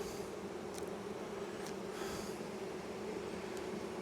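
Honeybees in an opened hive, buzzing and fanning as a dense, steady drone heard up close, with no talk.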